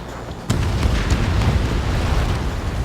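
Missile striking an enemy bomber in Ace Combat 7, a sudden loud blast followed by a deep, rumbling burst of explosion that rolls on for a couple of seconds.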